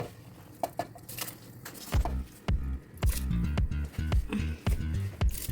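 Washed Kaima rice dropped into a pot of boiling water in a home kitchen, heard as a run of soft, wet, irregular splashes and patters, close and moderately loud.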